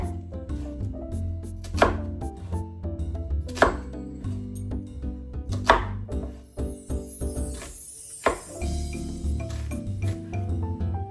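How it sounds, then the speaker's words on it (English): A knife dices food on a cutting board for a New Orleans Yakameen dish, striking in irregular crisp chops with a short rapid flurry, close and clear over a low background hum. "Get them all diced up and into"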